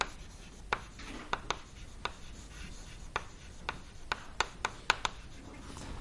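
Writing on a board during a combustion lecture on premixed laminar flames: a series of sharp taps and short scratchy strokes at an irregular pace over a quiet room background, with no speech.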